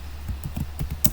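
Rapid keystrokes on a computer keyboard while writing a C++ program, a quick irregular run of close, crisp taps with no voices.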